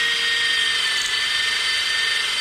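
A power drill bores a hole in wood for a dowel joint, a steady high whine running continuously and loudly with no talk.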